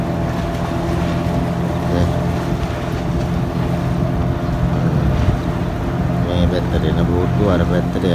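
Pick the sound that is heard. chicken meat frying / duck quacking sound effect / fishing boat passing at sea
fishing boat passing at sea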